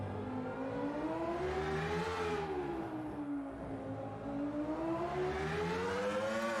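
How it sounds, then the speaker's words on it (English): Screaming V10 Renault Formula 1 engine from 1991 in the Automobilista 2 racing game, a steady loud harmonic roar that rises and falls in pitch with gear and throttle through a tunnel on a street circuit, with no talk. "Just listen to that engine roar as we come through the tunnel and head on down to the Noval chicane."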